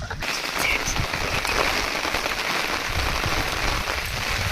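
Steady rain patters densely on a surface nearby, a continuous hissing wash with no voices.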